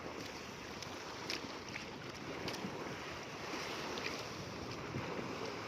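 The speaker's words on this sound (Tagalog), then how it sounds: "Ay, ang hampas ng alon dito sa pier." Waves crashing against a pier at the seaside, a continuous rushing wash of water with wind buffeting the microphone, steady and fairly close with no voices.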